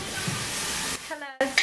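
Steady frying sizzle from 5% mince cooking for a lasagna at home for dinner, a dense hiss that cuts off after about a second, followed by brief voice-like tones and a couple of clatters.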